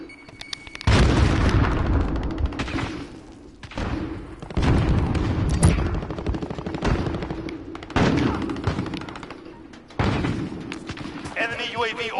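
A grenade thrown in a first-person online shooter on PS4, with heavy thudding blasts and bursts of gunfire recurring every couple of seconds, loud and close, a voice talking now and then over the noise.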